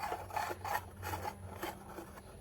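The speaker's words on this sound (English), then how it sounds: "first I'm going to use a screwdriver" Screwdriver scraping and rasping against the pins of a rear drum brake shoe on a Perodua Myvi, a repeated metallic rubbing in short strokes, close and fairly quiet.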